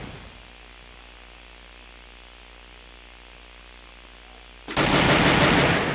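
Sustained gunfire from a Free Fire esports championship match, a player firing from behind a gloo wall; a low steady game bed for several seconds, then a sudden loud dense burst of shooting through the final second.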